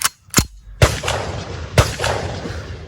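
Four loud gunshots from a Ruger LC Carbine in 5.7x28mm ring out at uneven intervals, each with a sharp crack followed by a rolling echo.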